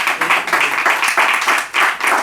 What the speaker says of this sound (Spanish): hay que darle un aplauso